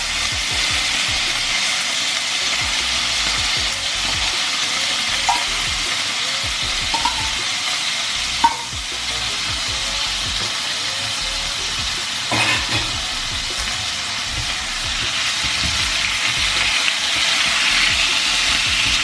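Pork sizzles loudly in a pan over sautéed translucent onions for a Filipino pinakbet, with a steady frying hiss and occasional scrapes and clinks from stirring, heard close up without talk.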